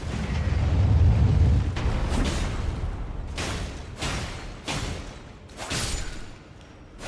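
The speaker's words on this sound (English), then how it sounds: "Cannon!" Cannon fire in the video game Elden Ring: a loud, heavy rumble followed by a series of repeated booming blasts, several strong bursts a second or so apart, with no talk.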